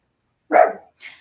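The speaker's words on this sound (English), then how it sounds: "I don't know if you can hear that barking." A single dog gives one sharp, loud bark close by, then a fainter, shorter second yip follows a moment later against silence.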